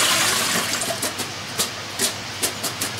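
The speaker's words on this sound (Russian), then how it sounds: "картошечку я высыпаю в кастрюлю с водой. А здесь уже тщательно ее моем" Potatoes being rinsed by hand in a pot of water, the starchy water sloshing and splashing in a steady, close wash with several sharper splashes toward the end, no talking.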